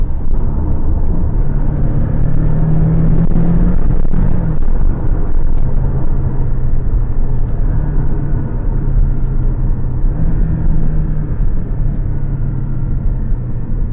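Porsche 718 Boxster driving with the sport exhaust switched off, a steady loud low engine and exhaust drone with road rumble heard from inside the car, no talking.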